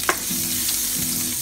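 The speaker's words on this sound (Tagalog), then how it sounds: "igisa natin yung bawang at sibuyas saka ginger" Garlic, onion and ginger sautéing in butter for chicken biryani, a steady loud sizzle close by with a quick stirring scrape at the start.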